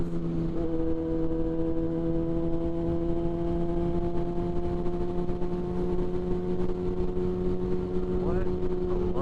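A 2006 Yamaha FZ6 four-cylinder motorcycle engine running smoothly, a loud steady droning hum with even layered tones and no change in pitch throughout.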